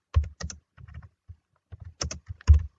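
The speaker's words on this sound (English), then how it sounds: "You will type in the Say block," Typing on a computer keyboard, close and distinct keystrokes in short uneven clusters with brief pauses, some presses landing with a heavier thud.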